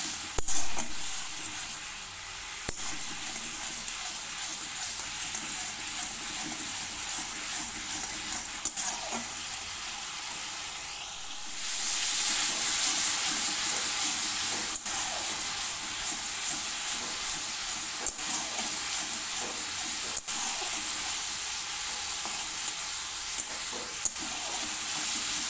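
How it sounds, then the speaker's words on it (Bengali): Spice paste sautéing in a pan for a potato and eggplant chorchori gives a continuous low sizzle and hiss, growing a little brighter partway through, with occasional faint stirring clicks and no talk. "মশলাটা কষে নেব।"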